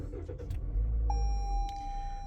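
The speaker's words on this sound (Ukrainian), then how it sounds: "Запустимо автомобіль." A 2018 Toyota C-HR engine cranks and catches, settling into a steady idle hum with a high electronic tone from the dashboard.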